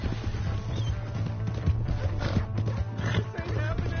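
A horse in Red Dead Redemption 2 clip-clopping at speed with a shrill neigh, close, beneath a steady hum and overlapping voices.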